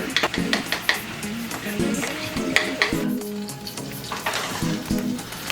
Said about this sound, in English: Just kind of stir them up here.